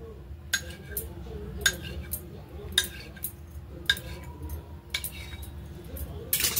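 A knife cuts a rolled log of momo dough into pieces, producing sharp, separate taps against the board every second or so over a low background hum.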